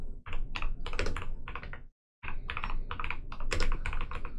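Rapid typing on a computer keyboard, a dense close run of key clicks that stops for a brief pause and then resumes, with no voices over it.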